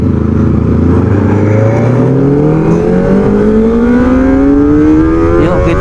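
A Kawasaki ZX25R motorcycle accelerates hard on a quiet morning road, its high-pitched inline-four engine climbing steadily in pitch over several seconds, loud and close with constant wind rush.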